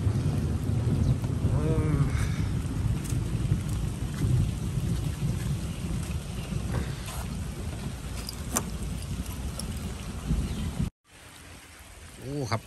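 Steady heavy rain roars throughout with low rumbling from a thunderstorm over farmland, dense and continuous, cutting out briefly near the end before resuming.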